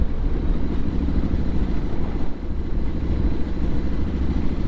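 A Triumph SS 900 motorcycle engine runs steadily with a deep, continuous rumble and a faint mechanical clatter, close and fairly loud, holding an even idle-like drone with no talking.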